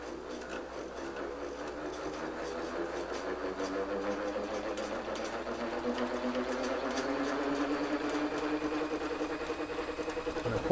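A small electric motor on a regenerative braking test rig spinning up, its steady whirring hum rising gradually in pitch and loudness across the whole stretch, close and unaccompanied.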